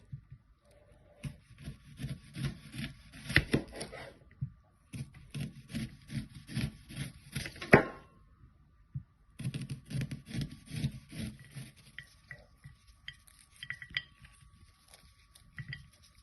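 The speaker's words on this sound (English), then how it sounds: "Going to slice the onions as well." Knife slicing onions on a board for a mayo potato bake, a run of close, rhythmic scraping cuts in short bursts with brief pauses between them and no talk.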